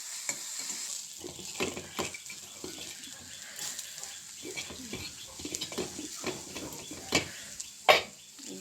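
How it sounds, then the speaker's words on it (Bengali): Sizzling in a pan with irregular scraping and clinking as food is stirred, ending in a sharper clatter. "দিয়ে একটু ভাজাভাজি করি।"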